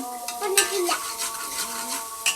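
Tempering frying in a pan, a continuous close sizzle with spoon scrapes and metallic clinks against the pan, plus a faint tonal squeak in the background.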